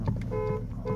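Horn of a 2007 Mercedes-Benz S550 sounded from inside the cabin: two short, steady tonal honks, fairly close, with a brief gap between them and no talking.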